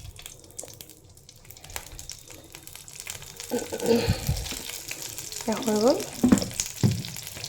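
Dried ghost chillies fry in mustard oil on a hot tawa, a quiet stretch giving way to loud, crackling sizzles and stirring up close, with someone speaking briefly.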